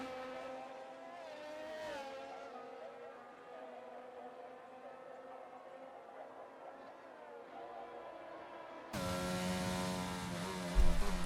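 Race cars in a sim racing video game at a Great Britain round roar past in sustained engine tones that rise and fall, ending in a sudden louder burst of close engine noise, with no speech.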